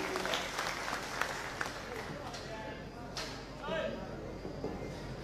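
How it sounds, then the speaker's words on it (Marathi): A crowd at a BJP workers' rally in Alsand, Khanapur taluka, gives sustained loud clapping, a dense continuous patter mixed with voices. "जोरदार टाळी."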